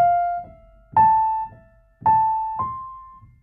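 Solo piano plays a passage: soft single melody notes and low chords struck about once a second, each ringing and fading, with no talk.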